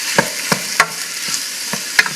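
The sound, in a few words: food frying and being stirred in a pan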